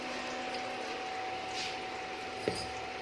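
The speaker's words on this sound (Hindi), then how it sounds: "तो ये पानी उबल रहा है इधर" A pot of water boiling on a gas stove gives a steady, soft bubbling hiss with a faint tonal hum, close and moderate, ending with one brief clink near the finish.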